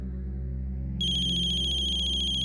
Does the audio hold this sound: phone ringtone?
yes